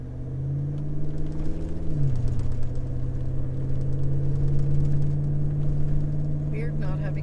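A 4WD climbing a sandy hill track at Coffin Bay in Australia, a steady low engine rumble and drone throughout, with a brief pitch drop as it shifts and faint voices near the end.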